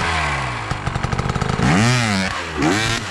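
An enduro motorcycle engine climbs a long hill, popping and then revving hard in rising and falling surges. It sounds loud and close.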